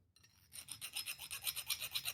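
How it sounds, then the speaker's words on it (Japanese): A hand file chamfers and deburrs a freshly milled steel part for a homemade lathe dog, giving quick, even rasping strokes close by that start after a brief pause and repeat about ten times. "ヤスリで面取りをして針を取ります。"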